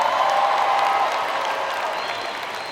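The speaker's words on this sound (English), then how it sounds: "Class of 2016, give yourselves a round of applause." Graduating class applauding at a university commencement ceremony, a broad crowd of clapping with some cheers, loud at first and gradually tapering off.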